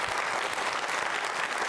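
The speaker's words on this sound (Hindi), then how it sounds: "तालियां बजाइए जोरदार" Dense, loud applause from an audience at a regional Jain Social Group quiz show prize ceremony, continuous across the whole stretch with no voices over it.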